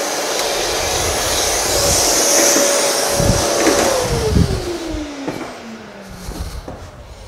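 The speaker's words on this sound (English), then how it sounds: "Put some vacuum there." A shop vacuum runs in a woodworking shop while a bow tie inlay is being worked: a loud, steady whooshing roar whose pitch slowly falls, with scattered knocks and rattles from nearby work.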